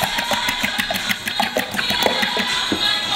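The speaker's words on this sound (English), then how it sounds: "Then we just whisk our eggs." Eggs are whisked with a fork in a bowl for special fried rice, giving quick, irregular clicking taps against the bowl over a few seconds, close and fairly loud, with no talking.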